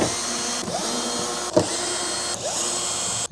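An electric driver spins the four screws out of a guitar amp, giving short whirring bursts separated by brief pauses, with a sharp clack near the middle and a faint ratcheting sound.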